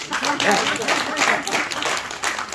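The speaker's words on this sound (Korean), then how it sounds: "박수 한번 치겠습니다." A lecture audience at a grape farming talk claps briefly under a speaker's voice, with light, scattered applause mixed with talk.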